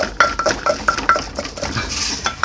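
Ingredients are pounded in a mortar, producing a run of sharp, irregular knocks and clinks close up, alone with no talking.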